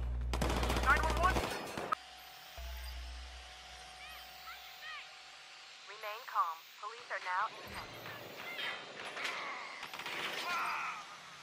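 Bursts of gunfire in Watch Dogs 2, a dense volley up front and scattered shots later, mixed with game sounds while someone talks throughout.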